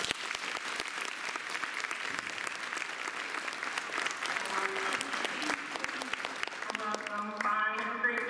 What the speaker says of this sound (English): Let's one more round of applause.